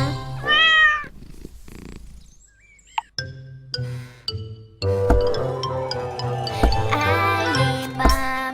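Cartoon cat meows ring out in a children's farm-animal song, with a clear rising-falling meow at the start, then playful tones and music filling the rest.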